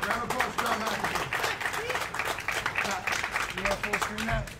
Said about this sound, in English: Round of applause for John McAfee.